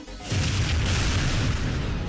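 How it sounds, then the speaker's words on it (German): A dense, continuous rumble of heavy booms and blasts from the video game TimeSplitters 2, loud and sustained after a brief quieter moment at the start. "hier explodiert Crap überall"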